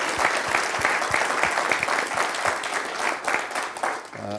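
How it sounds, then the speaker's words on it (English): A large audience gives a big round of applause for panelists and speakers at the end of a day of talks, dense sustained clapping at full volume that tapers slightly near the end. "how about a big round of applause for all the panelists"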